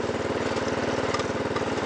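A 1986 Snapper Series 6 riding mower with a Tecumseh 8-horsepower industrial engine runs steadily close by, its low, even throb pulsing rapidly without pause.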